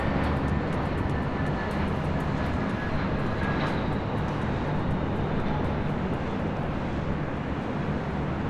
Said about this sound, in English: the JetBlue A321 next arrival here on the north side.